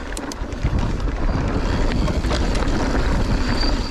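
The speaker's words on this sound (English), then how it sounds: "it is a little bit windy today, so hopefully I don't blow off the cliff" Strong wind blowing across an exposed clifftop, buffeting the microphone with a loud, constant roar and rumble and no voices.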